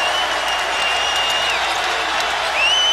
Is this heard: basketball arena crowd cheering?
yes